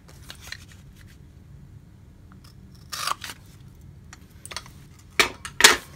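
Scissors trim a cardstock papercraft pizza box piece to fit, making a few sharp, close snips in two quick pairs against a quiet room.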